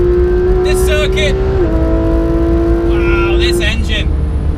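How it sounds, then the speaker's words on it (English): A race car engine screams at high revs with gear changes around Yas Marina circuit in GTA 5, a steady loud tone holding then dipping at a shift, with faint background voice-like content. "Wow, this engine. And listen to that gearbox."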